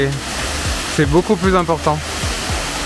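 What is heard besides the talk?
water flowing at Kathu waterfall, Phuket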